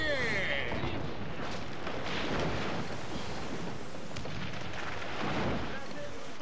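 Ship cannons firing in the pirate video game Assassin's Creed IV Black Flag, dense rumbling booms and blasts layered into a loud continuous barrage, with shouted voices mixed in.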